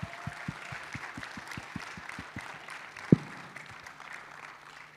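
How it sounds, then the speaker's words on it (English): A thin, scattered round of applause greets the winners at an online hackathon awards event. The clapping is faint and distant over a low rhythmic thumping and a single sharp knock. "Can I get a round of applause for them,"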